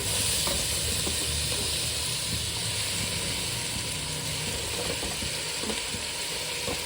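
Onions and tomatoes sauté in oil for mutton biryani, a dense steady sizzle up close with soft scraping stirs scattered throughout and no talk.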